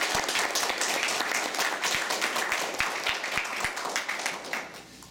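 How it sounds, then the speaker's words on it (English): A Toastmasters humorous speech contest crowd applauds their flag bearer, a full room of steady clapping with sharp individual claps standing out, fading toward the end. "let's give a round of applause for our flag bearer"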